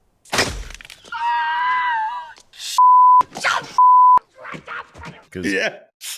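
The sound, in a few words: censor beep over swear words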